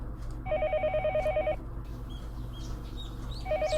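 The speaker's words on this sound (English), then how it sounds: "It was then that I noticed that the phone was ringing." A telephone rings in the Higurashi When They Cry visual novel, a trilling electronic bell in two bursts, one long and a short one starting at the end, over a steady low background hum, with no talk.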